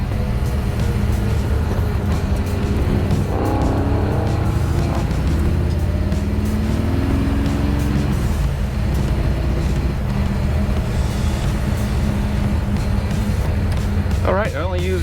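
A 1955 Chevy driving, with a steady engine drone and road rumble running throughout, close and loud, and a voice speaking over it.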